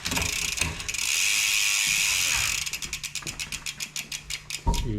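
Bicycle derailleur on a gravel bike shifting into first gear, a sustained whirring of the spinning drivetrain followed by a quick series of rhythmic ratcheting clicks as the cranks or wheel turn, close and clear.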